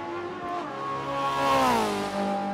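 Race car engine in Forza 7 at the Hockenheimring, a steady droning whine that dips under hard braking then climbs and swells again with tyre squeal, loud and continuous with no talk.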